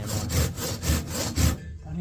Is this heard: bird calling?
no